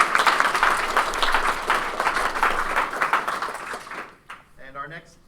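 Hackathon audience at a project demo day applauding a team, steady clapping that fades out at the end, followed by a brief voice.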